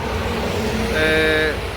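Road traffic with lorries passing, a steady rumbling roadside wash with a brief horn-like tonal toot near the middle, fairly loud and close.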